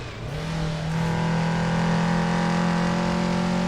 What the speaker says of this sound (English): Oh no, this is not a V8. This is a 4-cylinder Toyota.